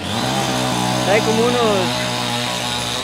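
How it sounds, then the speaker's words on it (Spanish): A chainsaw runs steadily while cutting through tree roots below a trunk, its engine buzzing loud and close with a brief rise in pitch, as someone talks in Spanish over it. "todavía hay demasiadas raíces que hay que cortar con la motosierra"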